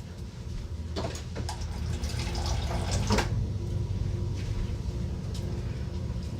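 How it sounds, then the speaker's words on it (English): Water is poured into a pot of shrimp and vegetables on a stovetop, a steady splashing trickle with a couple of sharper splashes early on, over a continuous low background rumble. "I'm just gonna pour that on there and it'll go to the bottom."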